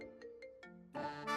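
A mobile phone ringtone plays a short melodic run of clear electronic tones, quiet at first and then swelling into a fuller, louder chime.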